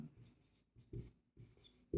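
Pen or pencil writing out a maths answer on paper, close scratchy strokes coming in short bursts with brief pauses between them.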